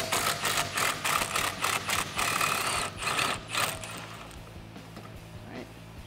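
A socket wrench turning 13 mm sway bar bolts on a 1979-2004 Mustang rear suspension: rapid ratcheting clicks repeat in quick bursts for about three seconds, close and loud, then trail off into quieter mechanical shuffling.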